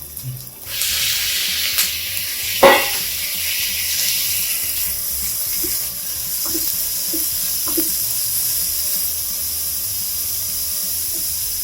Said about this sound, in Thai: ใส่เนื้อหมูลงไปผัดนะครับ